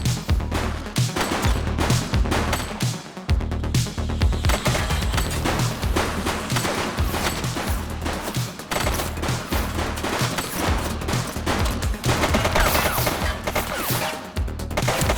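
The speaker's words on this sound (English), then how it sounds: "Shots fired! Gun!" Sustained heavy gunfire from a gang shootout in The Precinct, a PC police game, with loud dense bursts of automatic shots rolling continuously over a deep rumble, no break in the barrage.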